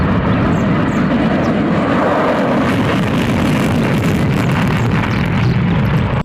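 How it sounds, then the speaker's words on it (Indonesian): A fighter jet roars loudly and steadily, a constant dense engine rush that stays close and holds for the whole stretch without pause. "Wow, ternyata pesawat jet tempur."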